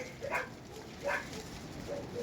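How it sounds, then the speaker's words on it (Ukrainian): Dogs bark a few times at a distance outside a greenhouse as someone arrives, short muffled yips spaced across the moment, with wind and outdoor background noise on a windy day. "собаки загавкали"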